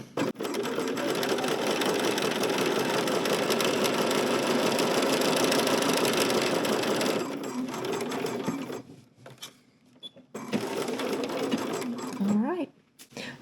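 A sewing machine runs continuously around the edges of fabric placemats, a close, steady rapid whirring that pauses briefly and resumes for another burst.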